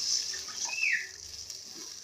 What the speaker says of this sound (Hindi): अब हम इसमें पानी शामिल कर देते हैं।